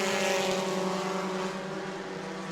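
Bomber A class race cars roar around the oval at New Smyrna in a dense, steady engine drone heard from a distance, holding even and loud with no voices.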